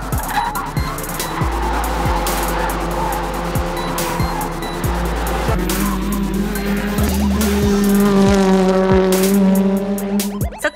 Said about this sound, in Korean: 이번엔 스타 드라이버들이 벨로스터 N으로 서킷 주행 시범을 보입니다.